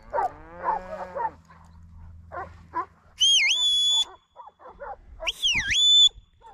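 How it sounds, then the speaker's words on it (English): Huntaway sheepdogs bark and howl while mustering ewes on hill country, a mix of cries from several animals, some nearer and loud, others farther off, with sharp rising-and-falling calls breaking through. "I've sent the hunterways this way, just try and get the noise over behind her."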